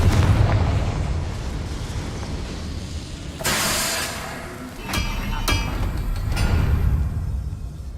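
A Confringo blasting curse explodes in Hogwarts Legacy: a heavy, loud boom with a sudden bright burst, followed by sharp crackling pops and a rumbling tail, amid other game effects.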